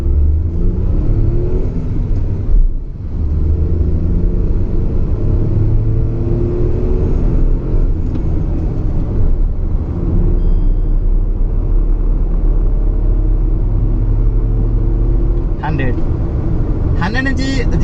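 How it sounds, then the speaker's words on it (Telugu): A Tata Nexon car accelerates hard from standstill toward 100 km/h, its engine droning loudly and continuously from inside the cabin, with occupants talking over the steady rumble. "0 to 100 km స్పీడ్ ఎంతసేపు రీచ్ అవుతుందని"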